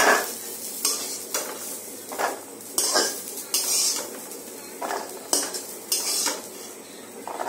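Fried chickpeas are scraped out of a metal wok onto a plate in a home kitchen, with repeated clattering scoops of metal on metal and faint sizzling between the strikes.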